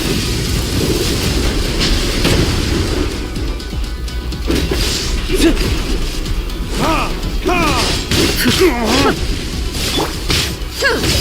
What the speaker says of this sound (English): Lightning falls on the land of eternity.